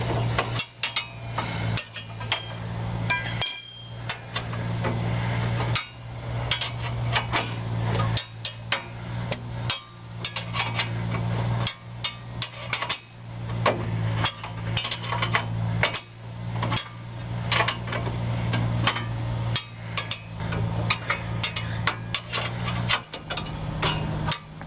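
A bolt is tightened on a car's front suspension during reassembly, giving repeated metallic ratcheting clicks and taps in irregular bursts over a steady low hum.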